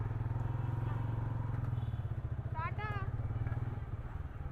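A bike taxi motorcycle runs steadily throughout, its engine a continuous low rumble close by, while a passenger and rider talk over it.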